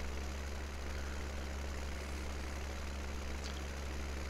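A tractor fitted with narrow wheels idles in Farming Simulator 17, a steady, low engine rumble holding even and faint throughout with no other sounds.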